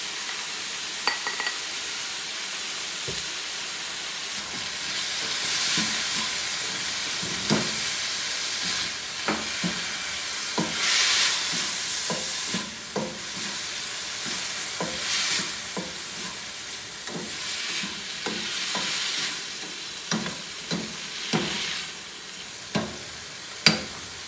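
Mixed vegetables being stir-fried with brown rice in a hot pan, giving a steady sizzle with repeated scraping and stirring clatters throughout, up close with no talking.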